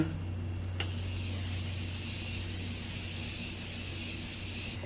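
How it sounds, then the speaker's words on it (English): A single sustained hiss of Morphe makeup setting spray from an aerosol can, close and fairly soft, running for several seconds before cutting off. "I'm gonna just spray a little Morphe spray."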